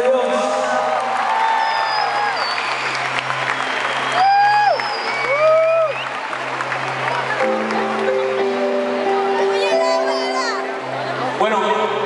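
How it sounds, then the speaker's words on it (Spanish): Church congregation applauds the archbishop during a Mass, crowd clapping and cheering over busy chatter, with whoops and voices rising above the hubbub. "Un aplauso a nuestro Señor,"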